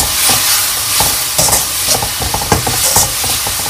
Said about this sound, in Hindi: अब हम थोड़ी देर 2 मिनट इन टमाटरों को पकने देंगे।